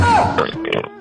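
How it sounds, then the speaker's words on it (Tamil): A single loud, close burp rolls out in a low, gurgling belch during a Tamil prank comedy sketch at home, with no talk over it. "ஏப்பம் விட்டியா?"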